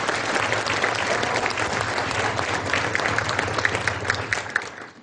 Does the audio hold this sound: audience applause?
yes